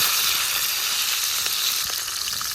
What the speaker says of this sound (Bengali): রসুনটাও খুব ভালোভাবে ভেজে নিছি